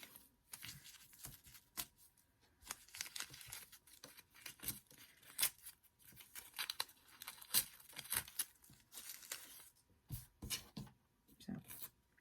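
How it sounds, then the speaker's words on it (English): Excess embroidery stabilizer is torn away by hand from around machine-stitched lettering on a quilt label, a close series of soft ripping and crinkling bursts in an uneven rhythm, fairly quiet. "Just want to stabilize all that lettering you have and just tear out the excess around it."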